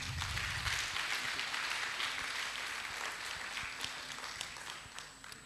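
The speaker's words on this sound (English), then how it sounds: "Can we have a round of applause for him?" An auditorium audience at a live career event applauds steadily, a dense, fairly distant wash of clapping that slowly fades, with no talk over it.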